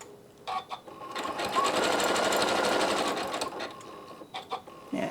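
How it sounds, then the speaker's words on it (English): A sewing machine stitches quilt pieces in a quilt-as-you-go project using a lock stitch, running in a steady rapid whir for a few seconds with brief stops and starts at either end, close and clear. "Now, as I'm sewing along, I can do the lock stitch as I'm sewing."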